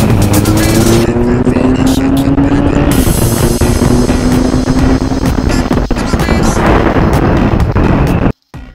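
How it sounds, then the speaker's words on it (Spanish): A Benelli 502C motorcycle accelerates flat out in an acceleration test, its engine note climbing loudly and steadily with wind roar, a gear change near three seconds, then cutting off abruptly at the end. "Vamos allá con esta prueba de aceleración."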